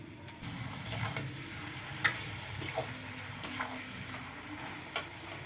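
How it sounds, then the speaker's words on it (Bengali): Duck meat is stir-fried in a pan for a curry, with a soft continuous sizzle and scattered sharp ticks and scrapes from stirring, close by and without talk. "এবার ভালো করে মাংসটা কষবো।"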